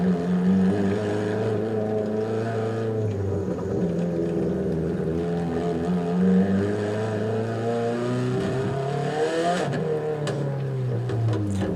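A car engine revs through its RPM range, its tone climbing and settling in smooth sweeps with a sharp rise near the end, loud and close with no voices.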